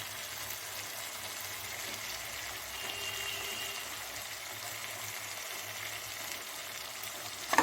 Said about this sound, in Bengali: ধনে, জিরে, লঙ্কার গুঁড়ো আর হলুদের গুঁড়োটা দিয়ে খুব ভালো মতো মশলাটাকে কষিয়ে দেব।